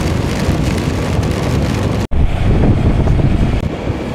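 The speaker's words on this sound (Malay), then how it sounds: "Aduh hujan." Steady, dense rain hiss in Batu Gajah, Malaysia, with rough wind buffeting on a DJI Osmo Action 5 Pro microphone, loud and continuous, briefly cutting out midway before resuming.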